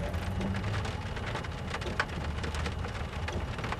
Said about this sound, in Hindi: बारिश हो रही है, देख लीजिए